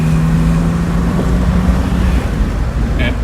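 A 1970 Mercedes-Benz 280 SL accelerates along a back road, its engine a steady low drone beneath road and wind rumble heard from inside the car, with a faint high tone near the end.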